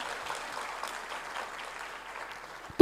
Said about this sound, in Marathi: त्यांच्यासाठी एकदा जोरात कडकडून टाळ्या झाल्या पाहिजे